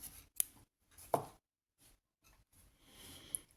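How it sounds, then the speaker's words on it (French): Scissors snip crochet yarn at the end of a row, giving a few sharp, quiet close-up clicks separated by silence, followed by soft handling rustle. "Je vais couper le fil"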